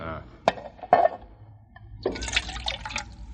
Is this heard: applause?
no